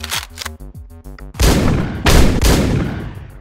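Gunfire in the Hotline Miami video game, two loud, booming shots in a row, each with a long ringing tail, following a stretch of pulsing, chopped-up game music.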